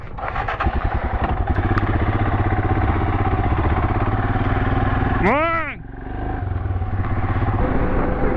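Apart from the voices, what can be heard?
Royal Enfield Himalayan motorcycle riding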